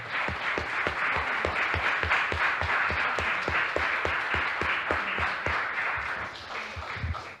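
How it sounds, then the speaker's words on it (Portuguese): Church congregation clapping in a steady, regular beat during a worship service: many hands strike together in a firm rhythmic pulse that holds for several seconds, then grows looser and tapers toward the end. "Vamos aplaudir o Senhor."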